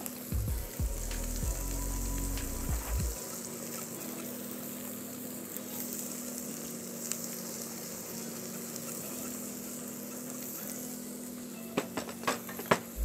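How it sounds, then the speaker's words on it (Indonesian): Seasoned bibimbap ingredients sizzle steadily in a hot pan as they are stir-fried with salt, powdered broth and pepper, with a few clattering knocks of a utensil against the pan near the end. "Oke, tumis sebentar."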